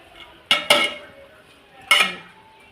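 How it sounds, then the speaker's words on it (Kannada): Metal lid clanks onto a cooking pot of sprouted green gram in a home kitchen, giving three sharp clattering hits, two close together and one a moment later, fairly near and clear. "ಇದನ್ನೀಗ ಮುಚ್ಚಿ ಬೇಯಿಸ್ತೇನೆ."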